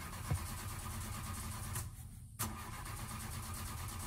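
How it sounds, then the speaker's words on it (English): A Minecraft sleigh engine cranks and fails to catch in a video game, a steady mechanical drone running throughout, broken by a short near-silent gap before a sharp restart. "Why won't the sleigh start?"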